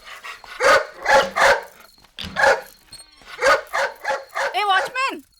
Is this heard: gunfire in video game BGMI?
no